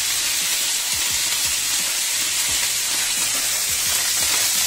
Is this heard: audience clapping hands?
no